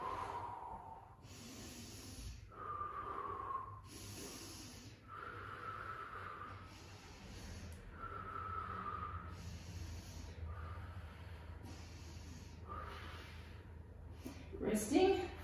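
Soft, rhythmic exhalations during a full-body Pilates workout repeat steadily at a slow, even pace. The breaths are faint and close, with muffled voice-like sounds between them.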